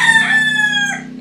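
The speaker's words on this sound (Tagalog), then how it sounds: "Ay, mga manok na maingay." A rooster gives one loud, close crow lasting just over a second, with a drawn-out, strained call that fades slightly at the end.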